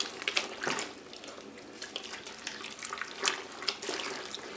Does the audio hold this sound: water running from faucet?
yes